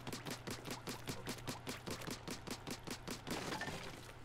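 Rapid, evenly spaced bursts of gunfire from a weak starter weapon in the video game Splatoon 2 repeat about four times a second, loud and steady, over a low game background hum with no talking.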